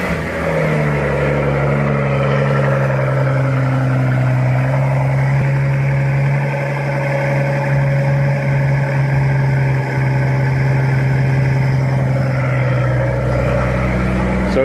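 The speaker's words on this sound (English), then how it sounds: "I'm going to show you guys a cold start now with mufflers" A car engine with mufflers cold-starting and idling high and steady, a loud continuous rumble with low harmonic drone throughout, no talk heard.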